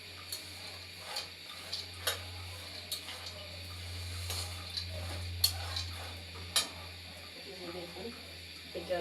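Maize and gram dry-frying together in a pan while being stirred give off scattered light clicks and ticks over a steady low hum, faint and irregular throughout.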